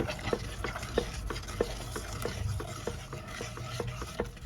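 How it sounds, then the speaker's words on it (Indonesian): A spoon stirs cappuccino pudding mix into 300 ml of water until it dissolves, giving a steady run of close scraping and clinking strokes against the pot with a soft liquid swirl underneath. "Ini diaduk-aduk terlebih dahulu hingga larut"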